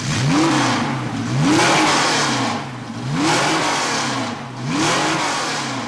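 A Porsche rally car engine of about 300 horsepower revs in repeated surging bursts, each rising and falling, loud and close, about four blips in steady rhythm.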